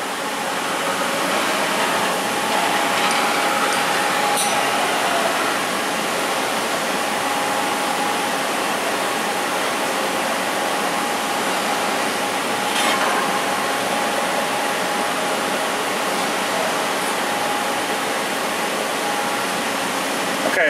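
Omax waterjet cutting a part, a loud, steady roaring hiss of high-pressure water jet that continues without a break, with faint mechanical ticks from the machine moving.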